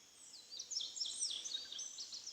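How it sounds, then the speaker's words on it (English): Birds singing in the morning, a cluster of faint high chirps and warbling calls rising and falling over a quiet, steady outdoor background, with no talk. "Can you hear all those birds?"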